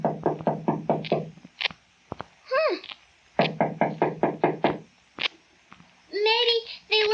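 Knuckles rap on a wooden door in two quick bursts of about half a dozen knocks each, close and crisp, with short talking between them in a snowy 1948 radio drama.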